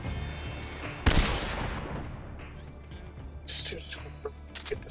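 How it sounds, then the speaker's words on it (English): Gunfire in the video game Metal Gear Solid 3: one loud sharp shot followed by fainter scattered pops and clicks, over a steady game background hum. "He's shooting off his hat, so shooting him in the face."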